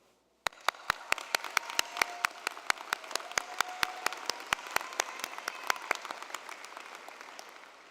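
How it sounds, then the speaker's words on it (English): Audience applause at the ICC 2023 college commencement: a steady wash of crowd clapping with sharp, evenly spaced claps standing out close by, running for about seven seconds. "and we applaud you."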